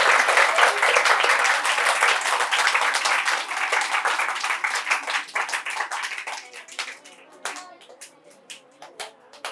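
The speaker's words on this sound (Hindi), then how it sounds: "एक बहुत बड़ी वाली तालियां बजाकर" Loud crowd applause at the inauguration of an education centre, dense clapping that gradually thins out, leaving scattered individual claps toward the end.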